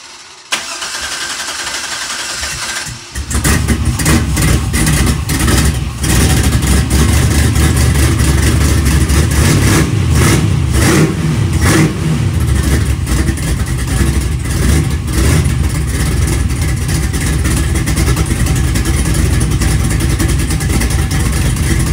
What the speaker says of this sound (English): hope this thing fires up and runs good